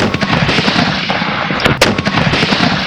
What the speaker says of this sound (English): We arrive at Eastport and run our guns out firing a few rounds, but there is no reply.